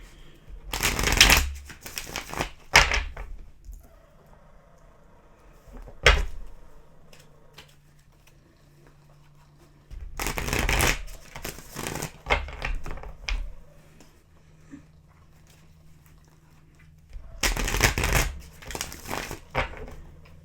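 Tarot cards are shuffled in several quick riffling bursts, crisp and close, separated by quiet pauses.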